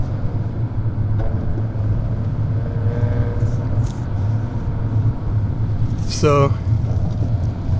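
A Maserati Ghibli cruises on a smooth road with a steady low cabin rumble of engine and tyres, heard under ongoing talk from inside the car.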